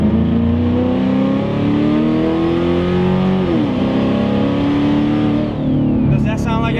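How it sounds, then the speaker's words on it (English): A turbocharged 2014 Ford Mustang GT California Special with an Aluminator Ford Racing block and automatic transmission runs loud and close, its engine note swelling and shifting pitch steadily throughout while people talk over it. "2014 Mustang GTCS with a 15 Aluminator Ford Racing block. It sounds good."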